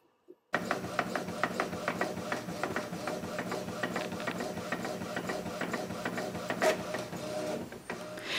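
A sublimation printer runs a job of garden flag designs, starting abruptly after a brief quiet and then whirring and clattering steadily in a close, even mechanical rhythm with regular head-pass ticks.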